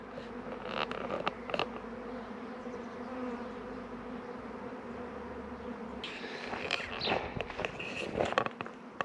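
A swarm of honeybees hidden in trees at a fenced rural spot gives a faint, low steady buzz throughout, with occasional louder passes of single insects near the end and light rustling footsteps.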